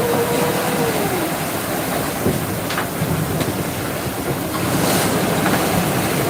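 A sailboat under way on the open Banda Sea, with waves rushing and splashing against the hull and steady wind buffeting the microphone, loud and continuous throughout.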